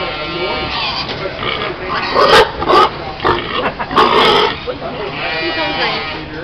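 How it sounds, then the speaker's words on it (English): Pigs grunt and squeal in a crowded pig fair setting, several loud bursts mixed in with close talking and background voices. "a lot of people think pigs are, they're not dirty, and they aren't gluttons, like Mr. Penfold was saying"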